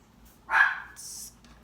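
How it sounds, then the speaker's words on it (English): A dog gives a single close bark followed by a short whining yelp, heard indoors in a quiet room with no talking. "Had to put up the dogs. They want to get noisy, always noisy."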